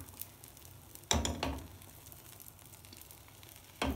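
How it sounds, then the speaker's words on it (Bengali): Eggs frying in a pan with onion and green chili, a steady low sizzle broken by two louder bursts of crackling spatter, close by with no talk. "এই যে ডিমটা আগে ভাজা নিলাম"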